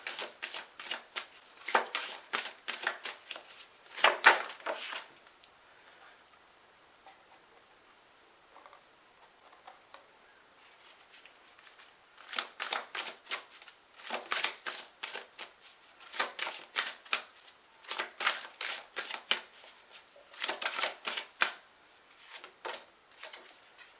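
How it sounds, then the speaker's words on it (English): Cards riffle and flap in repeated bursts of crisp shuffling, with a quiet pause in the middle before several more rapid shuffles close up. "So, shuffle these up a little bit more."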